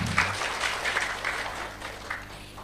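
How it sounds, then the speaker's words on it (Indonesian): An audience at a religious study gathering applauds with steady, moderately distant clapping that holds throughout and fades slightly toward the end. "Tepuk tangan dulu dong."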